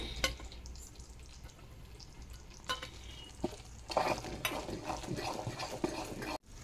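Jaggery syrup for sesame ladoos being stirred in a pan, with a soft sizzling bubble and intermittent scraping spoon strokes, close and moderately quiet.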